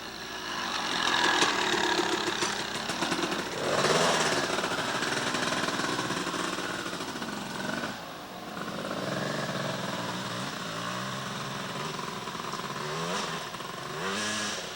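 A 1992 dual sport motorcycle rides a trail course where it leaves the road for the woods. Its engine drones loud and steady for the whole stretch, rising and dipping as the throttle changes, with no talk over it.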